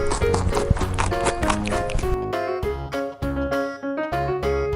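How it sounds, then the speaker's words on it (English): A horse clip-clops its hooves steadily and neighs, loud and close throughout with no talking. "four-legged animal with hooves, a long nose and tail, and a mane of hair along its upper back. Horse."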